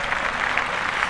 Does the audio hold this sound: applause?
yes